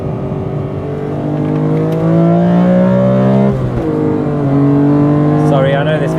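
Inside a BMW E46 M3 on the move, the engine rises in pitch under load, dips briefly at a shift and pulls up again, loud and continuous with a rising whine.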